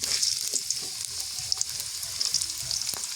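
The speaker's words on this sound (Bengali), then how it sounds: "ফোড়ন দিয়ে দিলাম। পেঁয়াজ দিয়ে দিলাম" Onions sizzle steadily in hot oil with tempering spices, a close, continuous bright frying hiss with occasional small pops and stirring scrapes, no voices.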